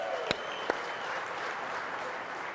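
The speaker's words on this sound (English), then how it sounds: "Let's give a round of applause to Joe and his team." Applause from the crowd at a Mopar press conference at the 2018 SEMA Show, a steady moderate patter of clapping with two sharp claps standing out near the start.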